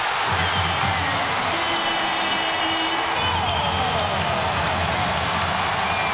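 A basketball arena crowd at a 2012 NCAA game between Mississippi State and Kentucky roars after a made three-pointer, a dense, steady wash of cheering and applause that holds loud throughout.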